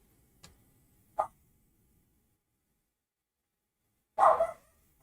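Indoors in a craft room, a dog lets out one short, fairly quiet bark after a couple of faint clicks and a long stretch of near silence.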